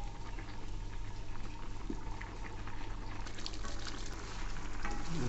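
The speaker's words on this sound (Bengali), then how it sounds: "এই যে আমি খিচুড়িটা একটু ভালো করে নেড়ে দিচ্ছি।" A pot of khichuri bubbles and simmers while a spoon stirs through it, a soft steady bubbling hiss with faint scraping, quiet and close, no talk.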